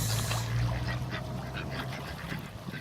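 Ducks quack repeatedly at an Australian creek, a cluster of nearby quacks over a constant outdoor background, with a few honk-like calls mixed in.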